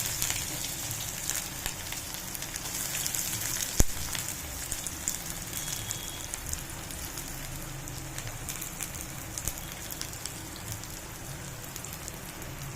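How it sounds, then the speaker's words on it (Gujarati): Chopped onions frying in hot oil for a Gujarati dahi tikhari, a steady close crackling sizzle with dense spitting pops throughout. "હવે ડુંગળીને આપણે શેકાવા દેવાની છે"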